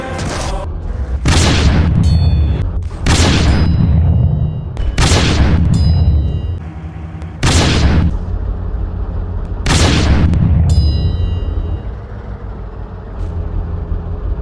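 Tiger 2 88 mm tank gun firing in Roblox Tankery, several heavy booming shots spaced a few seconds apart, each a loud, close blast with a short decaying tail over steady engine rumble.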